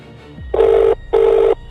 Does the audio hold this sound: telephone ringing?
yes